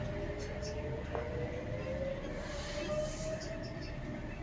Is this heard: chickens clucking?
no